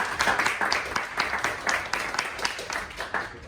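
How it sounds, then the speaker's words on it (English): Audience applause for a panel of speakers at a talk on the metaverse and NFTs, dense steady clapping sustained throughout at moderate loudness with no voices over it. "Round of applause for all of our panelists."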